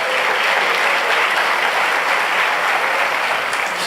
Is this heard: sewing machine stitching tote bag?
no